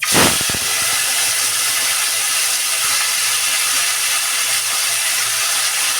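Tomato and ginger hit a hot frying pan of vegetarian palak paneer base, giving a brief clatter as they drop in, then a steady, loud hissing sizzle that carries on without pause.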